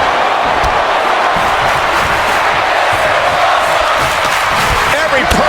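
A packed arena crowd in a wrestling video game roars and cheers steadily and loudly throughout, a dense wall of noise with shouting mixed in.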